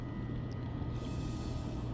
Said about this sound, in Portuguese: O motor foi ligado.